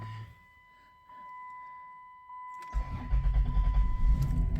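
A 2000 Chrysler Grand Voyager SE that has sat off the road and has no alternator, cranking briefly in the cold and then catching into a loud rough idle close by, with a steady electronic tone in the background.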